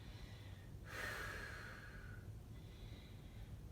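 A single deep breath is drawn during a yoga hip stretch, heard as a soft, close breathy rush lasting about a second and then tapering into a quiet exhale against a faint low background, with no one speaking.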